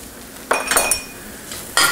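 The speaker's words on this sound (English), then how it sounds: "Stir those around, get them all good and coated in the sauce." Spoon stirring chopped garlic and onion in olive oil in a pan, two short scraping clinks over a soft background hiss.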